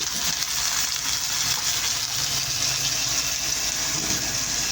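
Water pours steadily into a pot of chicken and papaya stew, a soft continuous splashing hiss under a faint background hum, with no talking.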